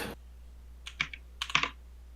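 Several quick computer keyboard keystrokes typing a Minecraft command, heard as two short bursts of clicks, close and clear over a quiet background hum.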